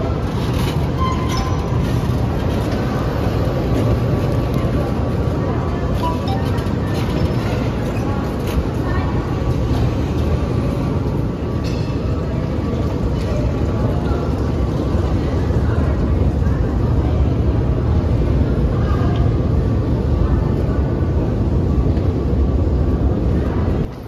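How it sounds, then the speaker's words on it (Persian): Underground metro station in Batumi, Georgia, with a steady loud rumble of a train or station machinery filling the space, faint voices mixed in throughout. "ایستگاه مترو هستیم در شهر باتومی."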